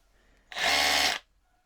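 A DeWalt DCH273 SDS hammer drill runs in a single short burst of about two-thirds of a second, starting and stopping abruptly, loud and close with a harsh buzzing whine.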